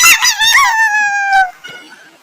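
A dog howls loudly nearby, one long drawn-out wail that slides downward in pitch, followed by a quieter whimper.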